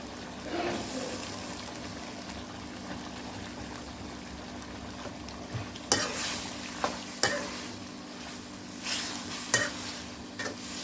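Chopped beans and pork belly sizzle and crackle in a hot pan for a chili stir-fry while a utensil scrapes and stirs, with a few sharp clacks against the metal.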